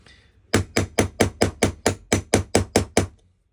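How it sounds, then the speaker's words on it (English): A hammer strikes a metal roll pin punch while a Maxus 2 is being deep cleaned: twelve sharp, evenly spaced, loud metallic blows in a steady rhythm, close up, after a brief quiet start, with no speech. "So I'm going to get my roll pin punch back."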